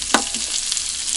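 Pasta frying with pork fat in a pan for a dinner cooked at a forest hut, giving a steady, close sizzling hiss with a brief stirring clatter near the start.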